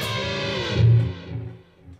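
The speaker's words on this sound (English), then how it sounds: "There's no damping feature on the echo tape. The delay is always going to be there." Guitar played through a tape echo delay preset on a Spark 40 amp, a distorted note ringing out with repeating echo trails that fade over about two seconds.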